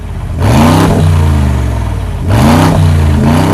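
A Mercedes-AMG G63 SUV with a Mansory P850 conversion revs its engine in two strong, close bursts, each climbing sharply and then settling back toward a rumbling idle.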